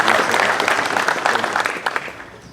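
Audience applause at a 2021 Memorial Day ceremony in Gloversville honoring active duty service members: steady, dense clapping from a sizable outdoor crowd, loud throughout and tapering slightly near the end.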